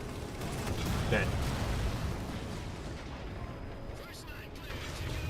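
Fuel rod cannon fire in the Halo 4 video game, a heavy booming blast with a burst near the start followed by rumbling combat noise and mechanical clatter, loud and continuous throughout.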